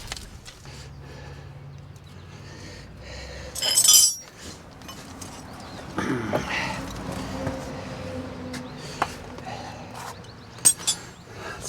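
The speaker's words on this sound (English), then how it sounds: "I dropped the other crush washer" A small metal crush washer drops during a car brake line repair, giving a bright, brief clink followed by a lighter tap later, over quiet workshop background.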